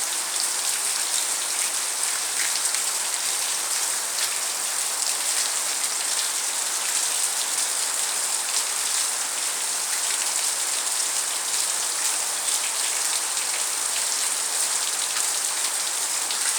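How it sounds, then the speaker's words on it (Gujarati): Steady, even late-monsoon rainfall hissing on surfaces in Vejalka village, Botad district, Gujarat, a dense wash of drops at constant loudness throughout, with no voices. "મસ્ત વરસાદ પડી રહ્યો છે"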